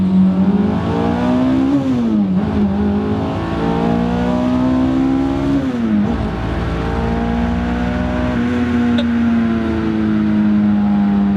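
A supercharged Honda S2000 accelerates hard as its wheels lose traction, the engine screaming loud and close in rising sweeps broken by two sharp gear-change dips, then holding a high steady note, with no talk.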